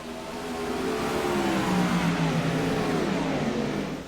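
Race cars roar past in a heat race on the Knoxville dirt track, several engines revving and sweeping by close and loud in one continuous, rising and falling drone with no talk.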